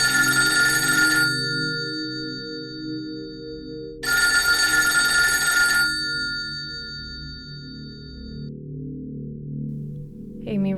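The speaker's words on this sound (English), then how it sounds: "She didn't even know how long she let the phone ring" A telephone bell rings in two long bursts with a pause between them, loud and close in a dead-quiet house, followed by a short faint click at the end.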